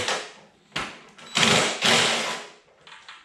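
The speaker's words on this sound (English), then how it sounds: "We're going to just tear them right off with our impact driver." An impact driver zips off 7/16 bolts on an MTD snowblower, giving several short rattling bursts with brief gaps between them, close and fairly loud.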